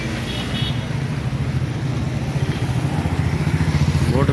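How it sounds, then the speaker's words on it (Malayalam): Night traffic near the MGR bus stand in Madurai: cars and motorcycles pass close by, their engines humming and throbbing in an unbroken drone that swells a little toward the end. "കാറുകളൊക്കെ വരുന്നുണ്ട്"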